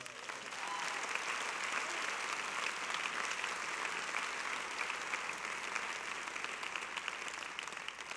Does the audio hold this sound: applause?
yes